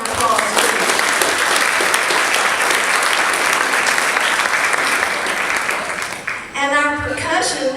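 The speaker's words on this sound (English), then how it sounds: "So let's give her a big round of applause." Audience applause at an event, a full, steady burst of clapping from a crowd that fades near the end as a voice begins speaking.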